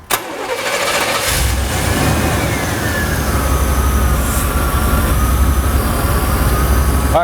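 A Chevy truck engine cranks and catches with a sharp start, then settles into a steady, loud, close idle that runs on without pause.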